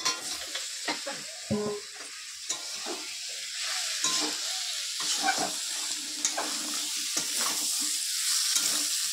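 Fried new potatoes being stirred and sautéed in a fish curry pan with cumin and coriander powder: a continuous oily sizzle broken by repeated scraping strokes of a spatula against the pan, close and clear.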